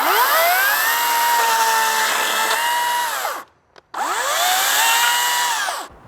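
A small Green Machine battery-powered chainsaw cuts through tree branches outdoors, its motor whining steadily loud under load, then dropping out briefly before revving back up for a second cut that ends abruptly.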